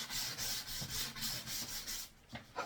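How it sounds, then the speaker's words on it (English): Sandpaper is rubbed along the cut edges of plywood for a house sparrow nest box, giving rhythmic back-and-forth rasping strokes, close and fairly loud, that slow to a few shorter scrapes at the end. "go around the sides with a bit of sandpaper just to eradicate all the splinters as you get when you're cutting ply"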